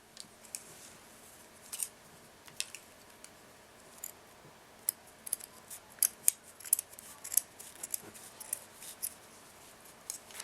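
Scissors snip through a length of shibori silk ribbon in a series of short, crisp cuts that grow busier toward the end, close and fairly quiet, with no voices.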